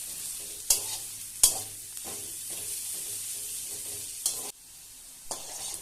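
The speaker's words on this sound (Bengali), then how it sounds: "পেঁয়াজটাকে আমরা ভালোভাবে নেড়ে চেড়ে নিয়ে মিশিয়ে নেব" Onions fry on medium flame in a pan, a continuous close sizzle broken by several sharp scraping stir strokes and spoon knocks against the pan.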